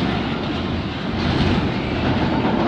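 A big CN freight train hauling containers rolls past Bayview Junction at night, a loud, close, continuous rumble of wheels and rattling cars with steady rhythmic clatter and no talking.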